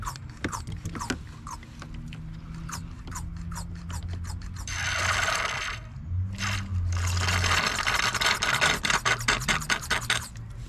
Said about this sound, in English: Go ahead and pump out as much as I can in here.